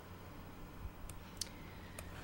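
A few faint, soft mouse clicks spaced over a couple of seconds while working in 3ds Max's UVW editing, quiet and close against a low steady hum, with no talking.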